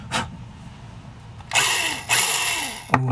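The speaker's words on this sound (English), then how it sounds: "Oh, I need some oil on my drill." A power drill is used to take apart a Hot Wheels Audi Quattro toy car. The motor gives a short buzz, then whines in two longer bursts with a brief pause between them and a sharp click at the end.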